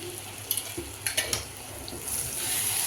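Soya bean khema masala with red chilli powder and oil is stirred in a pan. A few close spoon clinks and scrapes sound over a soft, steady sizzle that rises slightly toward the end, with no talk.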